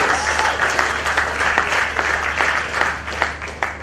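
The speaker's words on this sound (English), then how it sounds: "I invite you all to give a big round of applause to the entrepreneurs and the businesses here before you" Audience at a startup demo day for food entrepreneurs claps steadily in a broad, sustained wash of applause, with scattered louder individual claps standing out, filling the room without any talk.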